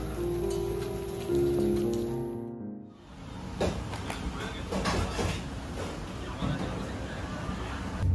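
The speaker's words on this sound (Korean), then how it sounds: "비가 오네요." Rain falls in Jeju, South Korea, while heading back to lodging: a steady, dense hiss of drops on surfaces throughout, with a brief dip in the middle and faint voices in the background.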